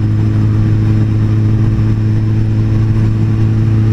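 A motorcycle cruising on a road at around 70 km/h, a loud, close, steady engine drone with strong low harmonic tones that holds constant throughout, with wind and road noise underneath.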